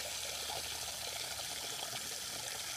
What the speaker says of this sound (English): So let me fill it up with some water and see how this works.